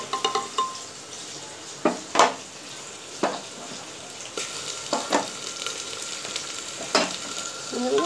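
Onions and spices such as ground cumin, salt and ginger-garlic paste frying in a pressure cooker, a steady close sizzle broken by several sharp scraping stirs and clinks of a metal spoon, with no talk.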